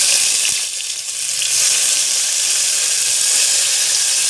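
Onion and green chilies fry loudly in a pan for a vegetable biryani, giving a strong, continuous sizzling hiss up close with a brief dip early on and no talking.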